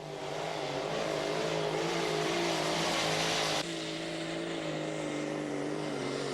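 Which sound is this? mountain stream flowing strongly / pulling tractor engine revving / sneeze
pulling tractor engine revving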